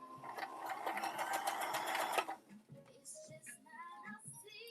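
A sewing machine running a zigzag stitch, a fast rhythmic rattling burst for about two seconds, then stopping as someone talks quietly nearby.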